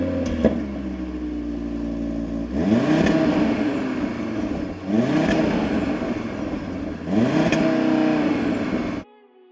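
Audi TT RS Iconic Edition with its five-cylinder engine revving hard in three strong, rising bursts, each climbing in pitch and then dropping back, loud and close, with no one speaking.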